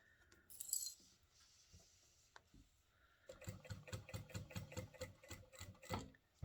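A sewing machine fitted with a walking foot stitches through a bulky cathedral windows quilt block, running in a rapid, even burst of rhythmic needle thumps after a few quiet clicks and handling sounds.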